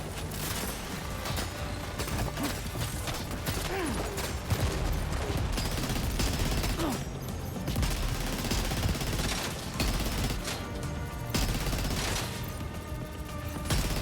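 A heavy weapon fires in the video game Death Stranding 2, rapid bursts of loud gunfire and booms layered with mechanical clanks and creaks, continuous and close throughout.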